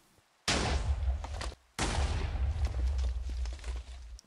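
Two loud, close explosions in a video game, each a sudden booming blast that rumbles on, separated by a brief gap of quiet.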